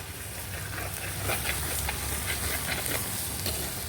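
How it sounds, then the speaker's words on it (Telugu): Eggplants frying in oil in a pan, a dense, even sizzle and hiss that holds steady throughout, close and fairly loud with no talking. "వంకాయలు ఎంత బాగా మంచిగా చూడండి ఆయిల్లో బాగా ఫ్రై అవ్వాలి"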